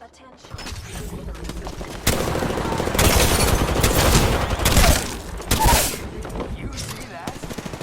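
Gunfire in Apex Legends: dense bursts of automatic rapid fire and fusillades, loud and near, with sharp surges around the middle, under voices and game chatter.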